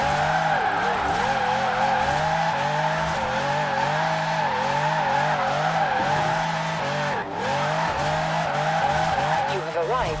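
A Ferrari 599 drifts in the video game Forza Horizon 4, its engine droning loudly while tires squeal almost continuously through tight turns, with a brief dip near the end.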